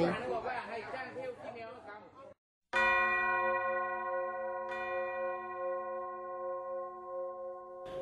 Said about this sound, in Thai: ก่อนฟ้าสาง เสียงระฆังจากวัดต่างๆ ดังเกิดก้อง